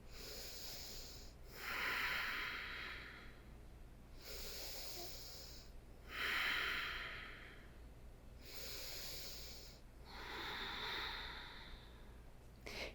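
Slow, deep yogic breathing during a held standing balance pose is heard close-up. Three long airy inhale and exhale swells recur every few seconds, soft and unhurried, with no talking.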